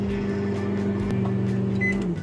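A microwave oven running with a steady low electrical hum and whirring fan, close and unbroken from start to finish, with a faint high tone near the end.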